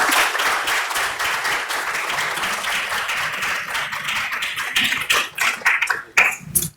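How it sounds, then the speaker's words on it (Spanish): An audience at a film screening event applauds, a thick stretch of clapping that thins out toward the end into a handful of separate close, sharp claps before stopping. "Unas palmas, sí."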